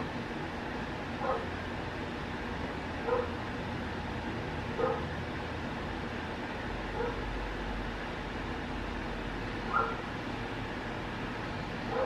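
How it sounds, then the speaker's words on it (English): A dog barks in short, spaced yips every couple of seconds against a steady background hum, somewhat distant and fairly faint. "Like, what are you barking at?"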